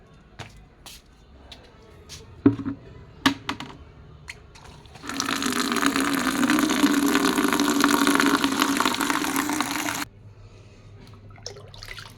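Loud, steady rush of water pouring into a bucket for about five seconds, between quieter moments with scattered clicks and knocks.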